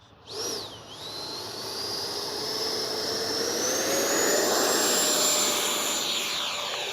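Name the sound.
X-Fly Sirius 80mm RC jet engine during takeoff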